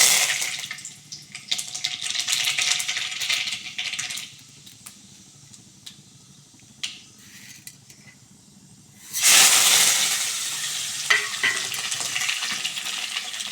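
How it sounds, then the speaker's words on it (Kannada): Curry leaves, urad dal and mustard seeds fry in hot oil in a pan for tempering, giving a steady close sizzle with light spatters that eases midway and then flares loudly again near the end; no voices. "ಕರಿಬೇವು ಉದ್ದಿನಬೇಳೆ ಸಾಸಿವೆ ಹಾಕ್ಬಿಟ್ಟು ಫ್ರೈ ಮಾಡ್ಕೊಂಬಿಡ್ಬೇಕು"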